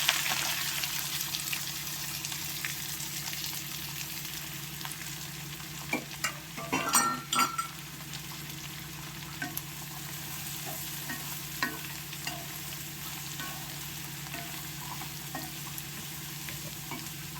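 Mustard seeds and chopped onions frying in oil for a fish curry, a continuous close sizzle broken by scattered stirring scrapes and a brief louder clatter, with no speech.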